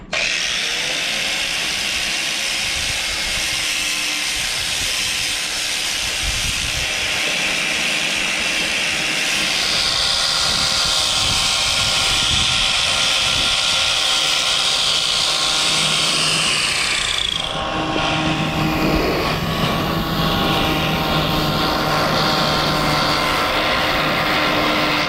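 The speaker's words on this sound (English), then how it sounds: "so grinding down this prop" A power grinder works on a sailboat's propeller. It gives a loud, continuous, harsh whining roar that holds steady with slight shifts in pitch and load as it bites into the metal.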